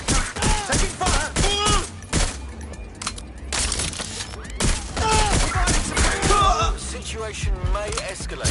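Rapid bursts of gunfire in Watch Dogs: Legion, loud sharp cracks in a dense fusillade mixed with shouted voices throughout a chaotic firefight.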